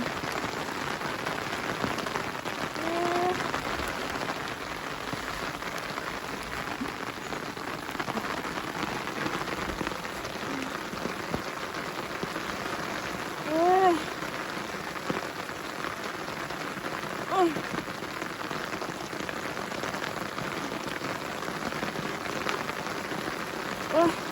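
Steady rain pours down on a forest during mushroom gathering, a continuous hiss of drops on leaves and surfaces throughout, with occasional faint voices.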